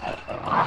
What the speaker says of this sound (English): I think one dog's gonna get me.